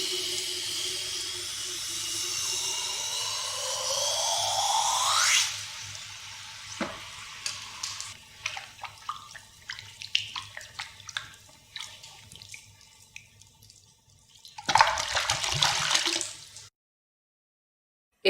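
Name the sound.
hot raku-fired clay piece dipped into water, hissing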